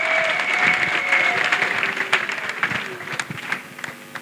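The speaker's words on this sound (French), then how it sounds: "Clap offering to Jesus Christ." A church congregation at a national couples' retreat claps as an offering to Jesus Christ, brisk applause that thins into scattered individual claps over a few seconds, with faint voices and a musical tone beneath.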